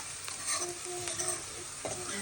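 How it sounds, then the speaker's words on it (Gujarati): Garlic, green chillies and ginger fry in hot oil with a close, continuous sizzle. Spoon strokes stir them at intervals, adding short scrapes and clicks. "તેલ લઈને અંદર લસણ મરચાં અને આદું નાખી દીધું હો."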